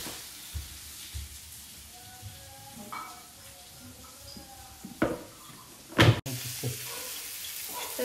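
Water poured into a hot pan for a Konkan-style coastal fish fry masala, giving a continuous hiss and sizzle with a few louder splashes and clatters near the end.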